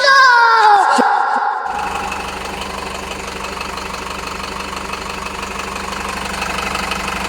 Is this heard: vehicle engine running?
yes